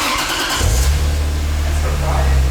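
A Lexus IS300 fitted with a Blitz aftermarket exhaust cranks and fires up, then settles into a steady low idle, close by, with people talking over the start.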